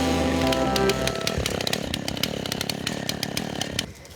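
A chainsaw cutting down a tree in South Africa, a loud continuous engine whine that drops in pitch as the blade bites into the wood, then cuts off near the end.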